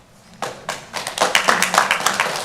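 Audience clapping at a regular commission meeting, a scattered burst of hand claps that starts sparse and builds into quicker, overlapping applause from several people in a hall.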